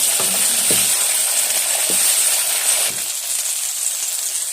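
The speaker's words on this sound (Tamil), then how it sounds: "நசுக்கி வச்ச சுண்டைக்காயை நான் எண்ணெயில் சேர்த்து வதக்கிறேன்" Crushed turkey berries (sundakkai) sauté in hot oil with a steady, close sizzling hiss, broken by a few soft clinks of stirring near the start.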